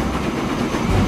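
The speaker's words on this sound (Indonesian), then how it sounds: "Wah, di situ ternyata ada kereta lain" Train rolling past in the railway building game Transport Fever 2, on a route through a Swiss town, heard as a loud, continuous low rumble with rail clatter throughout, no speech.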